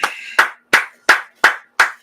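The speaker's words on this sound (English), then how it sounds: "Let's clap it up." Five sharp, evenly spaced claps ring out close and clear in a steady rhythm at a scripture class gathering, each a crisp slap with a short decay and no talking.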